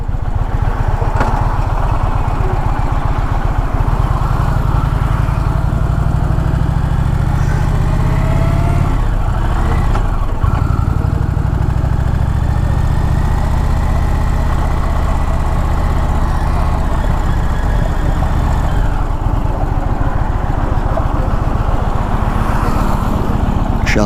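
A 2024 Indian Challenger Dark Horse motorcycle accelerates hard through its gears on the highway, its loud engine drone rising in pitch, dipping briefly at each shift, then climbing again under heavy wind rush.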